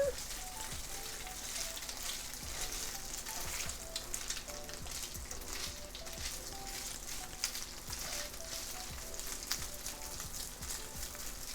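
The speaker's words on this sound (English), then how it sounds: "let's give this another stir" Asparagus sizzles steadily on a Big Green Egg grill while being stirred, giving a continuous crackling fry with small irregular pops and scrapes throughout.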